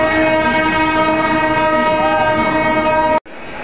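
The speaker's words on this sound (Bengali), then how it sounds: "শিয়ালদা রাজধানী এক্সপ্রেস ভায়া গয়া গয়া স্টেশনের 1 নম্বর প্ল্যাটফর্মে আসছে।" The Sealdah Rajdhani Express arrives at a platform at Gaya station, blaring a long, loud, sustained horn over rolling rail noise before it cuts off sharply.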